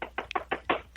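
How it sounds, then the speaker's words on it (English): Knocking on a door: a quick series of about six sharp raps at an uneven rhythm, close and fairly loud, with no talk over them. "you would actually go to the door and knock"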